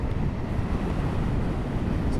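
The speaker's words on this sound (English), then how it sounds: "crazy windy." Heavy wind buffeting and rumbling across the microphone on a blustery beach at Marazion facing St Michael's Mount, a constant low roar with no pauses, loud and close throughout.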